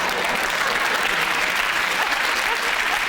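A television studio audience at a comedy panel show applauds, a dense, steady wash of clapping hands that holds at an even loudness throughout, with no voices rising above it.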